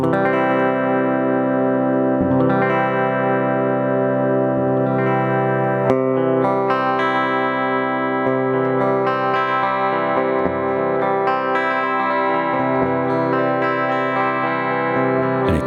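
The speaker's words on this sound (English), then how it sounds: "connect chords together with long held delay notes" Sustained electric guitar chords ring out through a Boss DD-7 delay pedal with long trailing repeats, notes layering and overlapping into a dense, washing tone, played alone.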